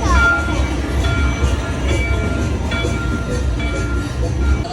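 A Disney theme park ride train at Walt Disney World Hollywood Studios rumbles and clatters steadily up close, with a high squeal at the start and voices talking over the running noise throughout.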